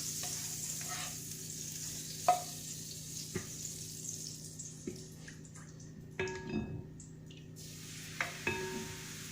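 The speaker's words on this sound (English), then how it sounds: "Want to put the butter in the pan." Butter for crepes sizzles quietly in a pan, a soft low crackle with a few sharp clinks and scrapes from a utensil scattered across the stretch.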